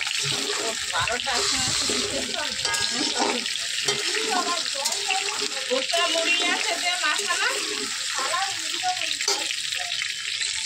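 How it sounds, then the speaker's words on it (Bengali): Potatoes fry in a kadai wok with a constant crackling sizzle, while people talk nearby in a busy home kitchen. "আলু কড়াই তুলে দেওয়া হয়েছে, আলু ভাজা হচ্ছে এখানে"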